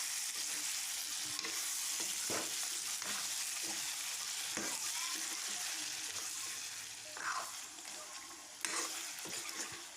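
Local chicken meat and potatoes frying in a pan with tomatoes, a steady loud sizzle throughout broken by occasional scrapes and clinks of stirring, no voices.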